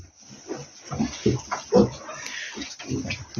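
A sow on a farm gives a run of close, throaty grunts in short, uneven bursts, with quiet gaps between them.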